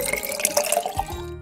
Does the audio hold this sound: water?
yes